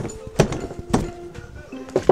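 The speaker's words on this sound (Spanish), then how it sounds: "con un golpe fuerte, vamos a abrir la tapa" A few sharp knocks ring out while knocking open a cover on an RE 205 engine cylinder head, a solid metallic blow followed by another, with quieter clunks in between.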